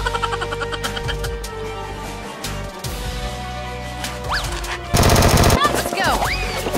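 Rapid bursts of fire from toy Nerf X-Shot blasters, with quick repeated clattering shots and a loud dense burst near the end, mixed with other action sound effects.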